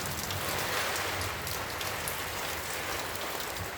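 Heavy rain pours steadily over waterlogged farm fields in a thunderstorm, a dense, continuous hiss close by with no voices.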